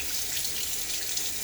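Cold hard water runs steadily from a bathroom tap into a sink during a shave with a Gillette Tech razor, a continuous close hiss with no voices.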